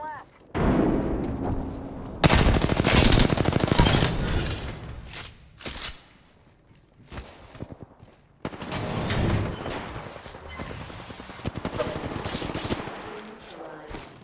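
Gunfire from a shooter video game firing smart bullets, with heavy automatic bursts and sharp shots in dense volleys broken by short pauses, plus in-game voice callouts.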